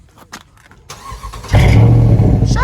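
A car's engine and exhaust roar up in a loud, sustained rev that starts about halfway through, after quieter road and cabin noise, heard up close during a drive in traffic.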